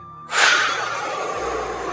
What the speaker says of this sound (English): breathing out with a sound, like you're blowing out a candle